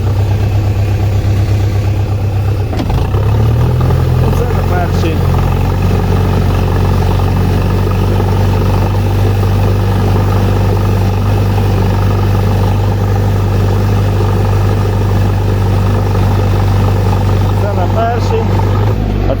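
A small Skaut 404 tractor engine in second gear chugs loudly nearby, its idle rising into a steady running rumble that continues throughout, with occasional clanks and voices underneath.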